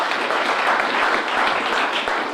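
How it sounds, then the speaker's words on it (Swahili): A church congregation at a Sunday service claps together, a dense, steady wash of applause that fills the whole short stretch at even loudness. "Pigia Yesu makofi mazuri"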